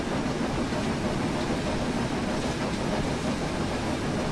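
Heavy freight train rumbling along rails in Train Simulator 2016, a steady, loud, continuous roar with low rumble and faint rail clatter, no talk.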